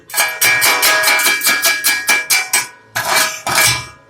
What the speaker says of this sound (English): the slag usually chips off really good